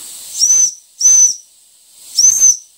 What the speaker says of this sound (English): I'm not sure if the whistle is original to this model Weeden or to a Weeden in general